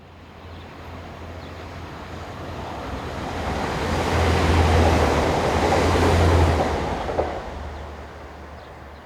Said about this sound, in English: diesel unit number 185111 heads towards the camera, forming the 1924 from Cleethorpes to Liverpool